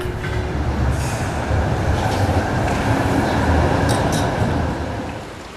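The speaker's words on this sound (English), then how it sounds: "Trams are already running, carrying people to work." A tram in Basel, Switzerland rumbles past nearby, a loud steady roar of wheels on rails with brief metallic squeals, fading slightly at the end.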